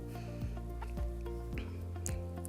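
Two-week-old chickens on a small farm cluck and peep repeatedly at close range in a short, steady stretch with no talking.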